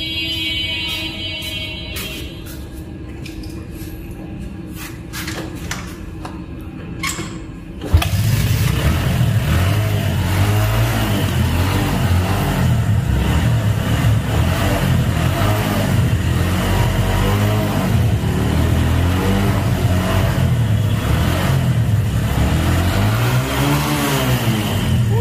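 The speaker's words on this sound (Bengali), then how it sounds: "এই গাড়িটাও আপনাদের স্টার্ট করে দেখাবো। স্টার্ট দাও তো।" A Bajaj Discover 125 motorcycle engine cranks briefly, then fires up and runs loudly and steadily close by, with repeated throttle revs rising and falling over the idle.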